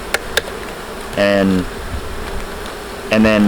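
Honeybees buzz nearby in two loud bursts around an open hive, as if one flies close past, over a quieter background hum with a couple of faint clicks.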